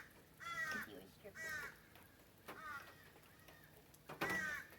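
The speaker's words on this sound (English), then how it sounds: "Boy, those crows are happy." Crows caw loudly outdoors in about five harsh, ragged calls spaced irregularly over a few seconds, with quiet background noise between them.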